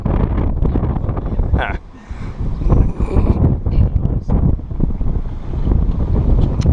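Wind gusting across a microphone on a breezy day outdoors near a header machine, a steady loud rumbling buffet with a brief lull partway through, and a voice briefly heard.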